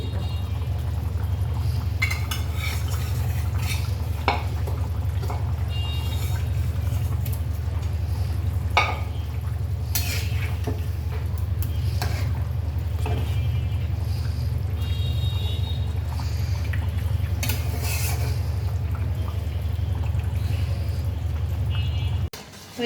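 Fish and green chilies go into a pan of jackfruit-seed and potato curry with katla fish, a steady simmering, bubbling sizzle running throughout with occasional stirring clinks and scrapes, fairly loud and close.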